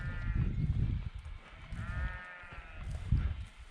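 Sheep bleat in a quiet, muddy Mill Dale field near a gate, with drawn-out wavering calls at the start and again around the middle over low wind rumble.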